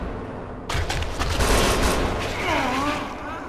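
Gunfire in the video game Kane and Lynch 2, set in a parking garage, erupts suddenly after a brief quiet into a dense, sustained volley of shots, with a faint voice near the end.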